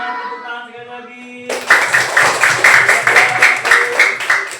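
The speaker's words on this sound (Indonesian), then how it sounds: "Tepuk tangan sekali lagi." A classroom group claps hands during a lesson: a brief voice is heard first, then loud, dense, rhythmic clapping from many hands carries on steadily to the end.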